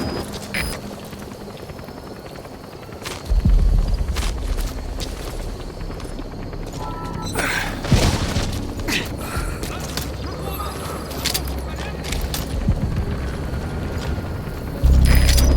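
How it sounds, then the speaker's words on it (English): A support helicopter arrives at a landing zone in Metal Gear Solid V: The Phantom Pain. A deep rotor rumble swells in after a few seconds and holds loud under mechanical clanks and creaks. "Support helicopter has arrived."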